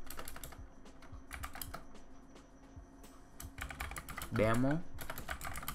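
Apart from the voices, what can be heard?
typing on a computer keyboard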